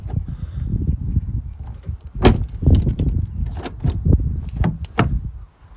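A key turns by hand in the door lock of a VW group car (VW, Audi, Seat or Skoda) to open it manually when the central locking has failed. The lock gives a few close, distinct mechanical clunks and clicks.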